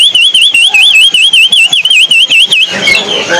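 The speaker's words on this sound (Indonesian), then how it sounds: "Oh bunyi terus tuh." A male robin songbird at a bird market sings a rapid, continuous warbling trill in close, evenly repeated bursts, loud and clear for most of the stretch before breaking into rougher chatter near the end.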